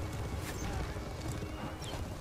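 Horse hooves clatter at a gallop during a mounted battle in Mount and Blade Warband (Light and Darkness mod), a steady faint rhythm under dense ambient game noise.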